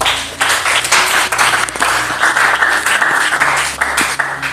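Church congregation clapping loudly in praise during a French-language sermon, dense continuous applause with sharper individual claps and some voices mixed in.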